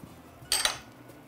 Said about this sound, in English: I'm gonna stir in some tomato paste